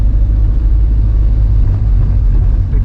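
A Honda S2000 running on a track gives a heavy, steady low engine rumble, loud and close, holding fairly even with only slight dips and no clear gear-shift break.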